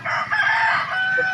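A chicken in a cage crows and clucks close by, a loud strained call lasting about a second.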